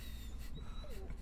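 Dog whimpering in the Blair Witch video game: a short, high, whiny cry that slides downward, heard over low background rumble.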